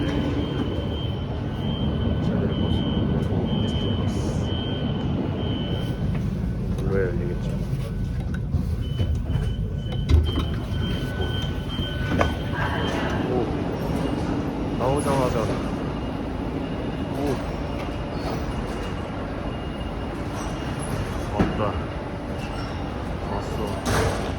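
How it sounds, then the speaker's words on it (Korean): A Madrid metro subway train heading toward the Bernabéu rumbles along with a loud, steady low roar, punctuated by a few clanks and a brief high whine, while a voice talks over the noise. "베르나베우행 지하철 타게 됐습니다."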